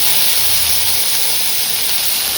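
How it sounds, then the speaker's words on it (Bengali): Chopped vegetables fry in a pan with a loud, even, close hiss that runs unbroken through the whole short stretch. "সবজিগুলো একটু বড় কুচানো হয়ে গেছে, একটু ছোটো হলে ভালো হতো। থাকবে আস্তে আস্তে ভাজাটা হোক।"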